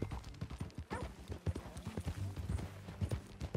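Horse hooves clip-clopping in the Red Dead Redemption 2 video game, a close, steady walking rhythm of hoof strikes on the ground.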